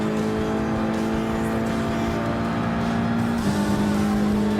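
A Ford GT LM race car in Gran Turismo Sport drives at speed, its engine holding a loud, steady drone with a slight pitch shift near the end, and no voices.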